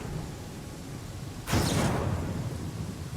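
A sudden crack of thunder from a Pathfinder: Kingmaker thunderstorm bursts in midway over steady rain hiss, then rolls on as a loud, sustained rumble.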